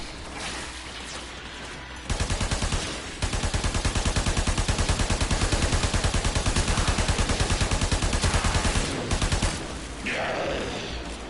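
Rapid automatic gunfire in the Warframe video game, a sustained loud burst of fast repeated shots running for several seconds after a brief lead-in, with game effects before and after.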